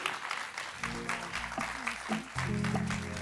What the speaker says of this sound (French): Tonnerre d'applaudissements pour elle.